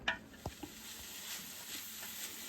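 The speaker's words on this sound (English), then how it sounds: "I sauteed the onions till they were translucent, and then I just added some minced garlic in there, and I've been sauteing that for about a minute" Onions and minced garlic sauté in a pot, a faint, steady sizzle broken by a few light stirring scrapes and taps, close and quiet with no talking.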